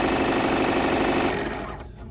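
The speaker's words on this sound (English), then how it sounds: "I'm just going to over sew this." Sewing machine oversewing the edge of a bridal veil, a fast even rattling stitch that runs steadily and then slows and fades to a stop near the end, no talk.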